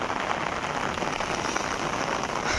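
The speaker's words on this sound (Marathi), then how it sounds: "कारण की परत पाऊस वाढलाय" Heavy rain pours steadily on a foggy day, a dense, even hiss of falling water close around with no breaks or voices.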